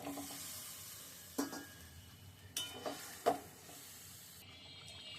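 An egg cooks in a pan of sizzling curry, a soft continuous frying hiss broken by three sharp spatula scrapes and clinks against the pan as it is stirred.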